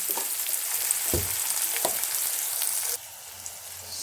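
Onion frying in a pan for a Bombay duck (lote fish) recipe, a loud continuous sizzle with a couple of soft stirring scrapes, dropping to a quieter hiss near the end.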